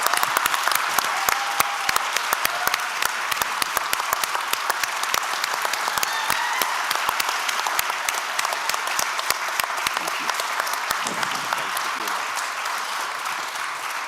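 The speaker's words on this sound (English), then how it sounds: "We need some sustained applause." Long, sustained audience applause following the 2025 Alchemy Lecture, a thick wash of many hands clapping near and loud, tapering slightly toward the end with a voice briefly audible.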